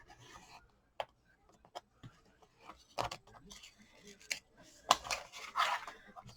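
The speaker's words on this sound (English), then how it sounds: "I am just going to cut right up against that piece of chipboard." A few quiet, sharp snips cutting through chipboard, spaced irregularly with faint handling noises between them, close up in a quiet room.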